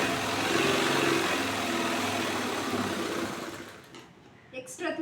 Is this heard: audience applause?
no